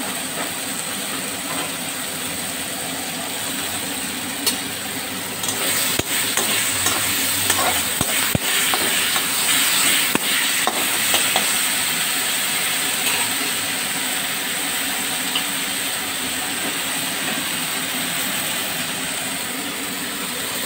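Sugar and green chillies frying in a pan give a steady, close sizzle and hiss that runs for the whole stretch, with scattered crackles and a few stirring scrapes around the middle and no voices.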